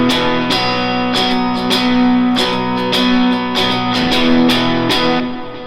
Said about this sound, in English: So the chord progression sounds like this.